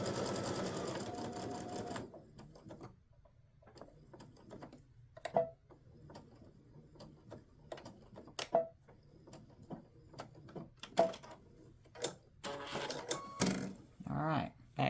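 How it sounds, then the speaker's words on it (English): A sewing machine stitches corner to corner across a self-binding placemat made from embroidered fabric blocks. Bursts of steady, close motor whirring open and close the passage, with scattered light clicks and taps in the quieter stretch between them. "So now I'm going to sew from corner to corner."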